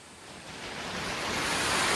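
A forest waterfall gives a steady, dense roar of rushing water that swells a little louder over two seconds, with no voices.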